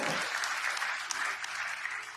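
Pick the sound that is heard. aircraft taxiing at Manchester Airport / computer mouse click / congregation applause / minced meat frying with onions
congregation applause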